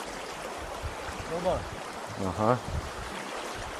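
River current carries a raft down the Akmena river after the spring ice break-up, a steady broadband rush of water running throughout, with brief voices heard near the middle and later.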